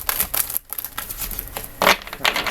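A deck of tarot cards is shuffled by hand close up, giving a run of quick papery rustles and riffling bursts with short pauses between them.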